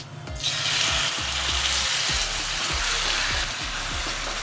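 Marinated chicken hits hot oil for gongura chicken and erupts into a loud, steady hiss that holds for the rest of the clip, with low repeated knocks underneath and no talking.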